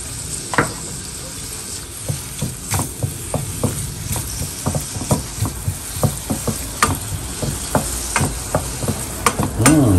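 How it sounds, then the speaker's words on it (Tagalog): Chopped onion frying in melting butter in a pan, a steady close sizzle broken by repeated scraping stirs in an irregular rhythm, with no talk. "Isabay na natin itong sibuyas habang nilulusaw itong butter."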